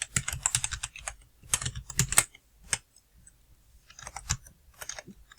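Keys clatter on a computer keyboard during data entry in a database program, in quick bursts of crisp clicks separated by short pauses, close and clear with no talking.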